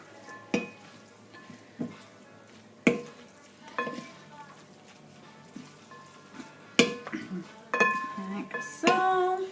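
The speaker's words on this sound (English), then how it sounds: "Toss this" Hot pre-cooked pasta tossed in tomato sauce in a pan, with sharp metallic clanks of the pan and utensil landing at irregular intervals over a soft background, close and fairly loud.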